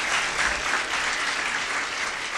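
A school audience at a primary grade event breaks into a brief, steady burst of dense applause, many hands clapping at once with no voices audible.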